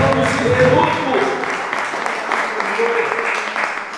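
Congregation in a church clapping hands, a steady wash of applause running under a preacher's voice throughout.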